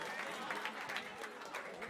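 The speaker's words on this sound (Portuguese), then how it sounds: "Palmas pro Lil V aí, família!" The crowd at a street rap battle, Batalha da Aldeia in Barueri, gives a faint, distant round of applause, with soft scattered clapping and crowd murmur.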